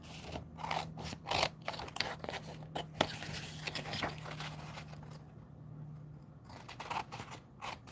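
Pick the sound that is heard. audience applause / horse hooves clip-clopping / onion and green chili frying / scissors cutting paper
scissors cutting paper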